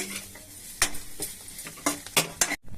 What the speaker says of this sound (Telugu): ఇప్పుడు ఉప్పు కారం వేసి బాగా కలుపుకోవాలి